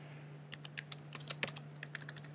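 Code is typed on a computer keyboard in quick uneven bursts of light plastic key clicks, close and clear over a low steady hum.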